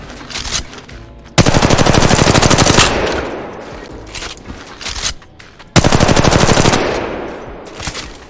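Automatic gunfire from a scoped weapon in the mobile shooter Apex Legends Mobile, two loud sustained bursts of rapid rattling shots, each lasting about a second and a half, separated by quieter game ambience.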